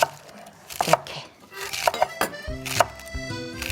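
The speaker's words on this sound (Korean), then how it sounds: "이렇게 썰어주세요. 칼 조금만 누여서 썰어주시면 돼요." A knife slices napa cabbage into thin strips on a cutting board, a run of crisp, irregular chops landing close by, with faint kitchen clatter between strokes.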